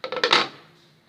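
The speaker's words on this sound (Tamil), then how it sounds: "கொதிக்கிட்டோம், தட்டு போட்டு நான் மூடிடுறேன்." A plate is set over a boiling cooking pot during South Indian vegetarian lunch prep. A quick run of close metallic clinks ends in a short ringing fade.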